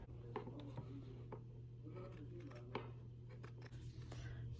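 Scissors snipping through a shirt's fabric in a few short, quiet cuts with faint rubbing, set against a steady low background hum.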